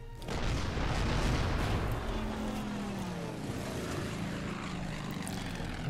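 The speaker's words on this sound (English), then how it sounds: "A Dauntless dive bomber. No doubt looking at that juicy destroyer sitting there" Propeller aircraft engine drone of a Dauntless dive bomber in the game Order of Battle Pacific, a loud steady roar with a low engine tone that holds throughout, no talk.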